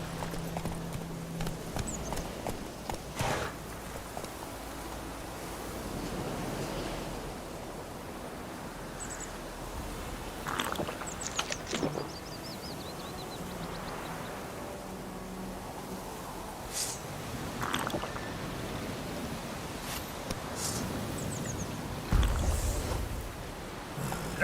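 Hooves of Roach, the horse in The Witcher 3: Wild Hunt, clip-clopping in a steady walking rhythm over ground, with ambient game sounds and occasional snorts, no talking.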